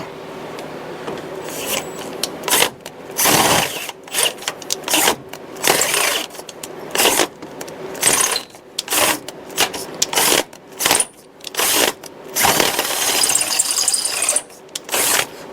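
A power drill bores out holes in a front suspension part during a truck suspension install, grinding and chattering in uneven bursts with short pauses between, loud and close.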